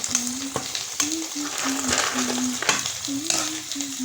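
A snack frying in hot oil with a steady, close sizzle and crackle, punctuated by sharp scraping knocks as it is stirred and lifted out. A low hum runs underneath.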